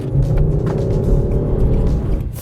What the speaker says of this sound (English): 5-cylinder engines, they just sound fantastic